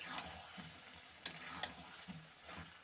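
Broccoli and potato stir-fry with spices in a pan, a faint sizzle beneath a handful of distinct spatula clicks and scrapes at irregular intervals.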